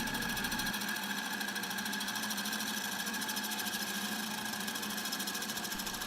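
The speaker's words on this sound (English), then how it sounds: "So I decided I would go ahead and try to turn this on our metal cutting lathe." A metal-cutting lathe turns a wooden mallet blank cut from a wild tree, giving a steady, continuous mechanical whir and hum with a high whine that holds evenly throughout.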